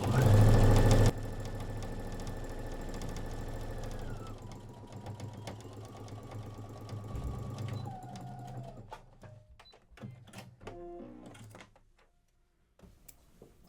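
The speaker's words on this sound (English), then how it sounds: "We're going to sew straight 5/8, and we're just going nicely all the way around the curve." A sewing machine stitches a straight 5/8 seam around the curve of a onesie, starting in a loud rapid burst, then settling into a softer steady run with changing hum before slowing and stopping.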